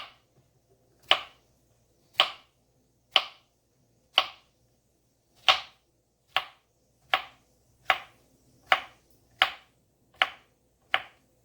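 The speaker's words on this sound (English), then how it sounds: "So you cut off the ends, and you're going to make slices about this thick." A knife cuts slices through a vegetable onto a cutting board with about a dozen crisp, close chops, each sharp and isolated, spaced roughly a second apart in a steady rhythm, with no talk.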